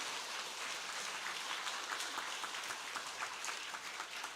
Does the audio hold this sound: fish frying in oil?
no